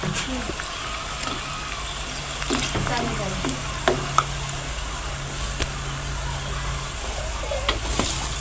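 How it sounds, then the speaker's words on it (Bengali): Pitha cakes fry in hot oil in a village kitchen, a continuous close sizzle with occasional stirring scrapes and a faint low hum underneath. "এখন তেলের মধ্যে দিয়ে ভেজে নেব।"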